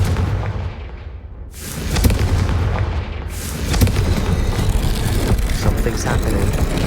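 In Hogwarts Legacy, the Confringo fire spell goes off in two heavy booming blasts, each a sharp burst followed by a rolling rumble, loud against a noisy game background.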